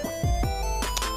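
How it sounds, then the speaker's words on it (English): A phone ringtone plays as a short melodic burst of tones, loud and close, with a dense layered electronic sound and no talking over it. "So that was my phone, by the way."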